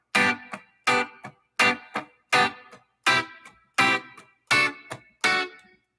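Guitar strumming major triad barre chord shapes moving from I to IV, eight evenly spaced strummed chords, each ringing briefly with a quick second stroke, bright and clear, alone.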